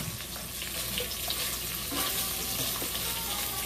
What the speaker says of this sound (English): So I'm going to put those in now.